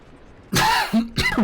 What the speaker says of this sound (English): Excuse me for coughing there.